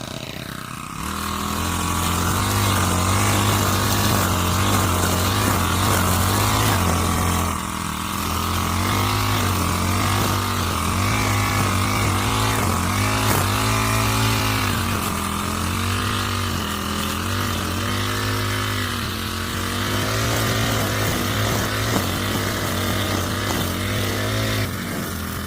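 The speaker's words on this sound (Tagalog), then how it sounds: "Ayan mga may isusunod natin, grass cutter." A grass cutter running while a tomato garden is cleared, a loud, steady motor drone that wavers in pitch as the engine revs and eases, near and continuous throughout, with no clear talk over it.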